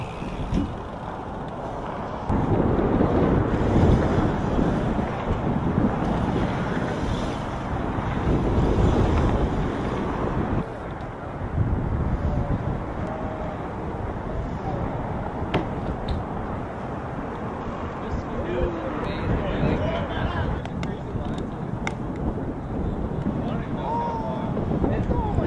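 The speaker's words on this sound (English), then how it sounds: "Dude, it is so windy right now." Strong gusting wind buffets an outdoor microphone at a BMX challenge, a steady loud roar of wind noise lasting throughout with occasional quieter dips.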